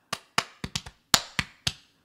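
Sharp body-percussion claps and slaps played on the body in a syncopated pattern for live looping on a Boss RC-600 Loop Station: seven crisp hits in quick bursts, close and dry, with no talking.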